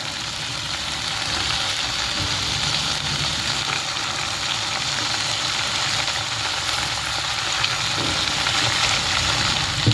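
Mint, coriander and curry leaves fry in hot oil, a steady, dense sizzle and crackle that holds evenly throughout, close and fairly loud with no voices.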